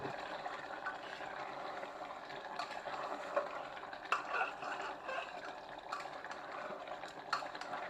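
Hot water poured into a pot of cooking beef for a beef-and-cabbage dish, a steady soft liquid wash with faint stirring clinks, close and continuous throughout.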